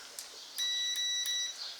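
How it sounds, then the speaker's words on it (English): A multimeter's continuity beep during alternator diagnosis and repair: a single steady, high-pitched electronic tone lasting about a second, close and clear over a quiet background. "Mine also beeps, but it gives me a continuity and an ohms reading."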